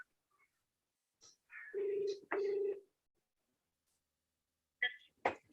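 Two sustained ringback tones buzz one after the other as a phone call is placed during an online launch event for an education campaign. Faint clicks and brief sounds follow, then silence.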